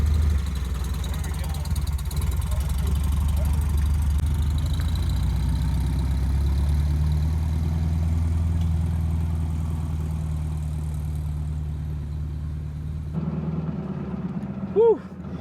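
A 1952 MG TD kit car engine runs in first gear with a steady, loud, low rumble that drops and quiets near the end, followed by a brief high squeak.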